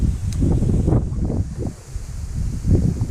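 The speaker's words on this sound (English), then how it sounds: "Oh, a bit windy." Gusty wind buffeting the microphone outdoors while feeder fishing, in low rumbling bursts, rising and falling over a few seconds.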